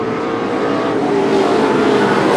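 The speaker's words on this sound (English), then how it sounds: "Matt Fromm takes a look underneath Tommy O'Sullivan entering turns 3 and 4" Short track race cars circle the track side by side through the turns, a dense, loud engine roar that holds steady and rises slightly, with no voices over it.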